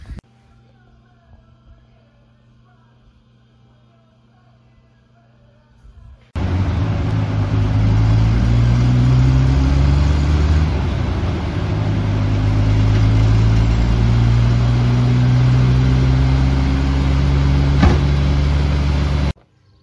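A Triumph TR6 with a 125-150hp conversion runs on a rolling road: after a quiet start the engine bursts in loudly, holding a steady drone with repeated rising revs close by.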